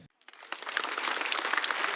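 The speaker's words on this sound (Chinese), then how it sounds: "我很感谢刚才这一位朋友鼓掌" Audience applause at a live stand-up comedy show, starting from near silence with a few scattered claps, then swelling into steady, dense clapping that holds for the rest of the moment.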